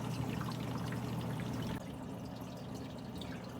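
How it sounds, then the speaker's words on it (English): Water draining and trickling from a Fluval FX canister aquarium filter, a steady close pouring wash that drops slightly in level partway through, with no talking. "The filter will drain just a little bit."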